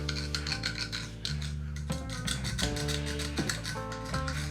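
Rust being scraped out of a front fork part on a Shovelhead motorcycle, a close, continuous raspy rubbing with short strokes while music plays underneath.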